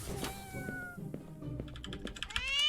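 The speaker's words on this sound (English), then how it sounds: "I guess there are distinct meows" A cat meows a few times in a cat-based horror video game over soft clicking like keyboard taps, ending with a higher, drawn-out meow.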